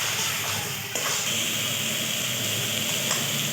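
Chicken masala for Nawabi chicken frying over a lowered gas flame after sour yogurt goes in, a dense steady sizzle and hiss from the pan with a brief stir-scrape near the start, loud and close, no talk.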